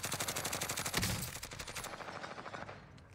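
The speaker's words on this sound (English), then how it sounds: "New SMG gives me like Arma vibes." Rapid bursts of new SMG fire in Call of Duty Warzone crack out in a quick rhythmic stream of shots, loudest early with a sharper blast near the one-second mark, then tapering into a fading tail.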